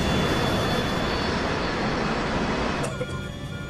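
A loud, roaring DC-9 airliner engine drones steadily with heavy broadband rush as the plane dives out of control, then cuts abruptly to a thinner, quieter hum near the end.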